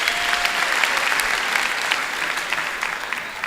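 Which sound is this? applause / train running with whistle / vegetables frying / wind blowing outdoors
applause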